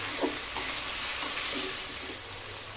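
Potatoes, carrots and peas sauté in a hot pan with a steady, close sizzle and occasional soft stirring scrapes, and no voices.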